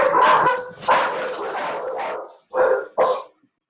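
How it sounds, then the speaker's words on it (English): Dogs bark loudly and close by in a quick run of sharp barks, then pause, then give two more separate barks indoors. "Sorry about my dogs there."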